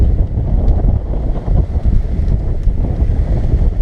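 Strong wind roars across a sailboat under sail, with a dense, continuous rumble and buffeting against the microphone, loud throughout and without speech.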